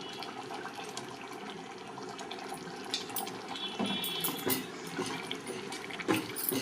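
Water pours steadily into a pot of goat head curry until the meat is covered, a continuous close splashing and gurgling flow that builds slightly toward the end.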